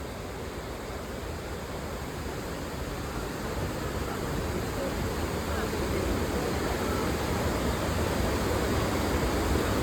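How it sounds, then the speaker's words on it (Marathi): Steady, dense rushing water roars continuously at close range, a broad hiss with no pauses, from the Napne waterfall in Konkan swollen by rain, heard from a glass bridge. "त्याच्यावरून धबधबा कसा दिसतो दाखवतो तुम्हाला"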